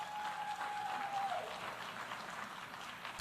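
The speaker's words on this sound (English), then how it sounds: "they brought in some ringers to clap and applaud" Staged applause from planted clappers at a political speech: steady, dense clapping from a crowd, sustained and fairly loud throughout, with a faint tone briefly sliding underneath.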